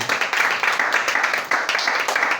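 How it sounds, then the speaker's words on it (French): Children and adults clap for a sister at a church Sunday school, a steady, close stream of rhythmic hand claps in quick pulses filling the whole moment without talk. "on acclame très fort pour la sœur"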